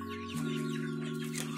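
A six-week-old Yudistira chicken clucks softly nearby in short bursts over a steady tonal hum in the background.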